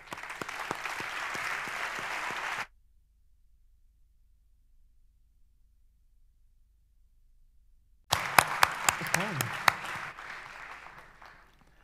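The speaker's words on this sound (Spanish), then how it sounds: "Les dejamos con Didier Queloz. Un fuerte aplauso." An audience at a live science lecture applauds to welcome the speaker, with a couple of seconds of steady clapping, a long silent gap, then a fresh burst of louder, sharper claps that gradually thins out.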